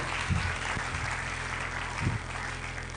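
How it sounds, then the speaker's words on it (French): Congregation at a church service applauding loudly and steadily, a dense wash of clapping with a couple of low thumps and a faint voice underneath. "Applaudissez très fort pour le Ozete Seigneur."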